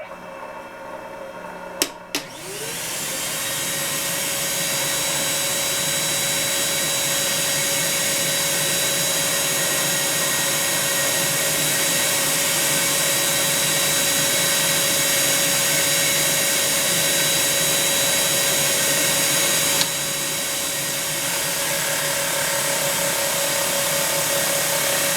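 Steady, loud whine of a Jim Byrnes Model Machine 6-inch drum sander spinning up after a brief clatter and then running continuously, with a sustained tonal hum and no talking.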